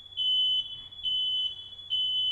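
A fire alarm sounds in three long, loud, shrill beeps separated by brief gaps, steady and piercing.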